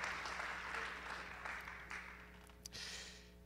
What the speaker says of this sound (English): Let's give him a hand clap of praise as you're seated.